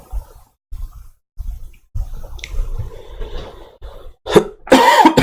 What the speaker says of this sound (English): Sorry, my cough, guys.